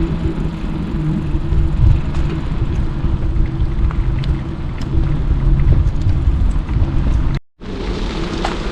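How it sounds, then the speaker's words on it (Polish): Rain falls during a bicycle ride in Poland, making a steady, loud hiss mixed with rumbling wind and road noise. The sound cuts out briefly near the end. "Złapał nas w końcu w tym roku deszcz."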